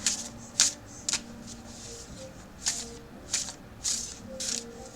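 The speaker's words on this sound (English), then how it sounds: "So let us lay out some cards for today's reading." Tarot cards being shuffled and laid out for a reading: brief riffling bursts of card shuffling, close and fairly quiet, in irregular clusters over a faint steady hum, with no talk.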